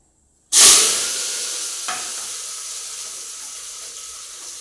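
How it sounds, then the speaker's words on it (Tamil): Onion, dried red chillies and curry leaves hit hot oil with a sudden loud hiss that slowly fades into a steady sizzle, with one brief clink partway through. "இந்த மூணையும் நான் இப்போ போட்டுறேன்"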